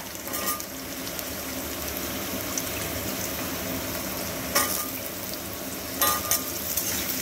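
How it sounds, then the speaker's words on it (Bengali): Potato and pumpkin pieces stirred while frying in a pan, a steady close sizzle with scraping spatula clatters and a few sharper clinks toward the end. "আলুটাকে দিয়ে একটু নাড়াচাড়া করে নেব। আর তারপরেই এর মধ্যে দিয়ে দিচ্ছি কুমড়োটা"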